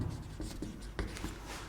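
Marker or chalk scratching across a board during a Class 12 chemistry lesson, a steady run of short strokes and taps close by, with no talking.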